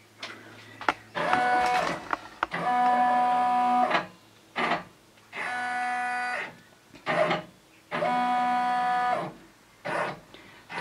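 A computerized embroidery machine traces the outline of a magnetic hoop frame, giving bursts of motor whirring with steady harmonic tones, separated by short pauses and clicks, loud and close with no voices.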